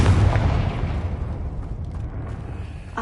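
A Confringo blasting-spell explosion in Hogwarts Legacy, a deep, loud boom that opens strongly and then rumbles down into a fading low tail, with no talking over it.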